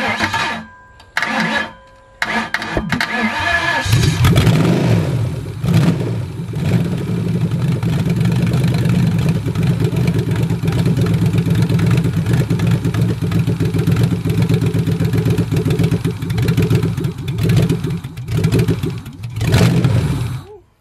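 A Ford 4.6L 4V engine runs on a stand outside the car, loud and close. It sputters briefly at first, then settles into a steady, rough-edged roar that holds with slight wavering to the end.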